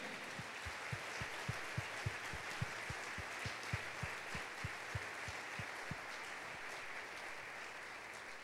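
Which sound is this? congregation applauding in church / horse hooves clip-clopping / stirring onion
congregation applauding in church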